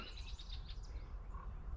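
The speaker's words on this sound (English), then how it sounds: "that bird that you hear over there is apparently a Sora" A Sora calls from somewhere off in a spring marsh in Nova Scotia, a few faint, high chirping notes repeating over steady low background rumble.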